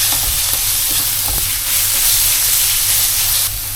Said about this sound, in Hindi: अब हम इस ऑयल में ये हमारा प्याज, अदरक और लहसुन को थोड़ा सा फ्राई करेंगे